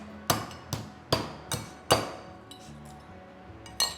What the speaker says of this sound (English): Crack open a few of these cardamom pods with my little cardamom cracker.